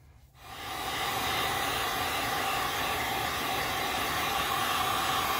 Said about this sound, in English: I'm gonna go and heat this with a heat gun just to get the glue all nice and gluey.